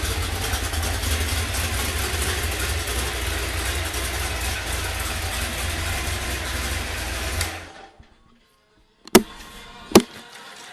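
A freshly built 1969 Ford Boss 302 V8 engine running loud and close with a steady rumbling roar, then abruptly shutting off into near silence, followed by two sharp isolated knocks.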